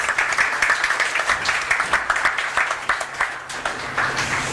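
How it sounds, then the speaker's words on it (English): An audience in a room at an innovation event applauds: dense, continuous clapping from many people that holds fairly steady, with a faint voice now and then. "so please clap for yourselves."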